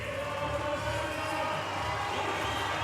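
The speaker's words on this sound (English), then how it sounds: "Crowd getting behind him now" Arena crowd at the IFSC Climbing World Championships in Innsbruck cheering steadily for a climber during a men's lead semi-final, a dense sustained roar with music running underneath throughout.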